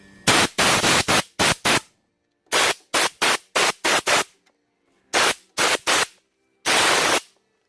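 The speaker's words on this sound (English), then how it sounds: "just take some compressed air and dry everything out" Short bursts of compressed air blasting to dry Loctite inside threads during a RZR drive shaft install, loud hissing blasts in clusters of two to four with quiet pauses between, no talk.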